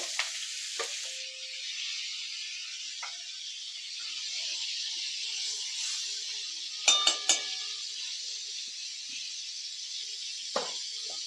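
Butter melting and sizzling in hot oil in a pan for Punjabi dal makhani, a steady broad hiss that runs throughout, with a few brief clinks of a spoon or utensil partway through and near the end.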